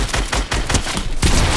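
Continuous loud Fortnite gunfire, overlapping shots in a dense volley that stays steady for under two seconds, close and harsh.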